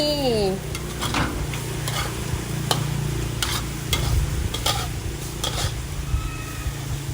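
Sesbania flowers stir-fried with egg and garlic sizzle steadily in a pan while a utensil scrapes and clinks in repeated strokes, close and fairly loud, with a few brief vocal sounds at the start.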